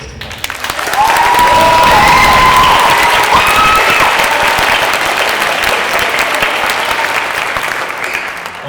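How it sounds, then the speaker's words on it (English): Audience at a high school holiday concert applauding instrumentalists, a loud, steady roar of clapping with some cheering and whoops that holds throughout. "one more big round of applause for all our instrumentalists tonight."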